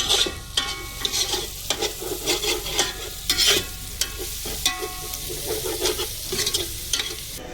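Dried chillies frying in oil in a pan for fish curry, stirred repeatedly: rhythmic close scraping strokes over a constant crackling sizzle, no speech.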